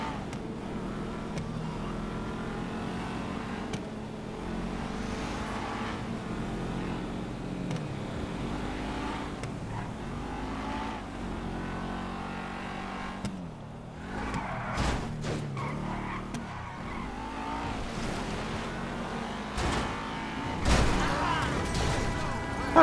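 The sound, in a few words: car driving and crashing in GTA Online video game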